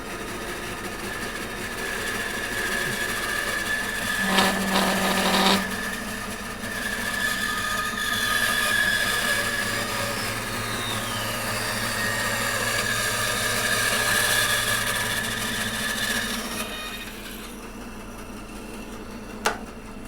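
A bandsaw fitted with a 1/2 inch, 3 teeth-per-inch blade cuts through wood for a turned ladle blank, a steady droning whine running loud and continuous for most of the clip before dropping away near the end.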